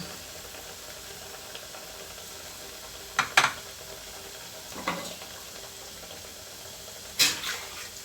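A steady, soft sizzle of food frying in oil for hotel-style vadacurry, with a few brief louder crackles and spits breaking through.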